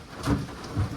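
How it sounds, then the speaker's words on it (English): Rain falls steadily outdoors around a camper under restoration, a soft continuous hiss with two slightly louder swells, no voices. "As soon as we finish and call it, it's gonna stop raining."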